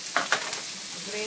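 Finely chopped onion and garlic sauté in a pan for a jackfruit seed stir fry, a light sizzle with a few quick stirring scrapes near the start.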